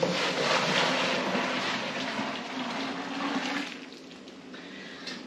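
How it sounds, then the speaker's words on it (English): Boiled beer wort made from an extract kit pours in a steady rushing splash into a brewing bucket, loud and close, then tapers off toward the end. "I'm gonna pour my boiled wort into here"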